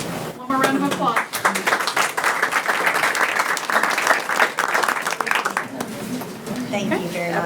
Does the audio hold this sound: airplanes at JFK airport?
no